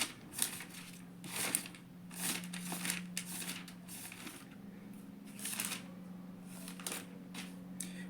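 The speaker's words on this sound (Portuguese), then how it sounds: "Abra sua Bíblia." Pages of a Bible being opened and turned: repeated papery rustles and flips in bursts, close and fairly soft, with a steady low hum underneath.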